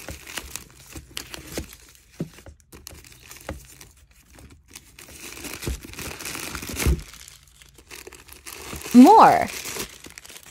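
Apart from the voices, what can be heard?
crinkling packaging while unboxing a Coach bag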